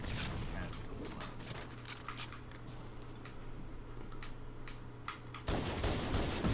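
Gunfire and shotgun blasts from a Halo multiplayer match crackle in a dense, steady barrage over a constant game hum, with a louder burst near the end and players talking over it.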